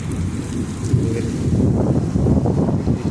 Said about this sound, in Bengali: এখন বৃষ্টি পড়তেছে, এই দেখেন।